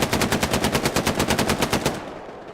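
Machine gun fire in the World War II video game Hell Let Loose, played on Xbox Series X: one sustained, evenly paced burst of about eighteen loud, close shots that stops abruptly, leaving quiet.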